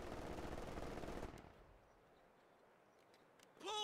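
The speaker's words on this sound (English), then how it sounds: "Taking fucking fire! MG42 has our range!" An MG42 machine gun in the Company of Heroes 2 battle game fires a dense, rapid burst of about a second, then the sound drops to quiet, and a brief rising tone comes in at the end.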